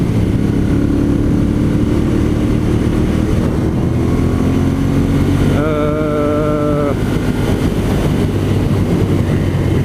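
A 2014 Ducati Monster 796 motorcycle is ridden along a road. Its engine gives a loud, steady drone mixed with wind noise, and a brief rising tonal whine shows up partway through.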